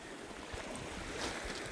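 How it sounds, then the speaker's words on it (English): Ocean waves crash on a rocky beach below cliffs, a broad continuous wash of surf with swelling surges and some wind, heard alone without speech. "you can hear the beautiful crashing of the waves in the background"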